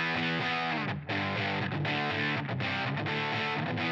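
A distorted electric guitar tone from a Mesa Boogie amp preset in Line 6 Helix Native, played as a steady run of sustained, saturated chords with brief gaps, loud and close with no talking.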